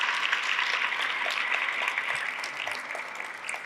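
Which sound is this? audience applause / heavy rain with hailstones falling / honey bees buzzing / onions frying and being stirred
audience applause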